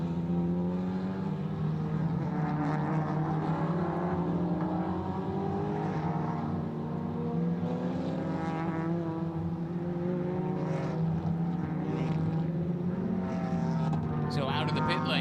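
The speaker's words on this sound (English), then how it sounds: "So out of the pit lane then comes the 95." A Michelin Pilot Challenge race car drives out of the pit lane at Mid-Ohio, its engine droning steadily as other cars pass by and rev, under continuous commentary.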